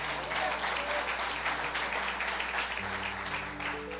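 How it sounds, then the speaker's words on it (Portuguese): A church congregation claps in a strong, rhythmic beat during a worship service, with a faint sustained musical tone underneath. The clapping stays continuous and lively throughout. "Mais forte as palmas."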